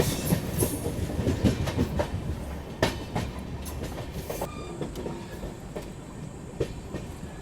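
The Mahabodhi Express running on the tracks, heard from on board: a steady rumble with rhythmic clickety-clack of the wheels over rail joints, loud and continuous, with occasional sharper rattles.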